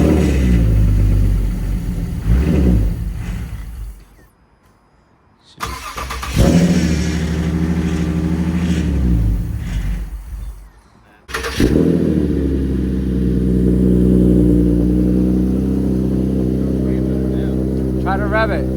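Replacement Nissan VQ37 V6 engine idling and being revved, giving loud rumbling bursts that drop away twice into near silence before catching again, with people talking nearby.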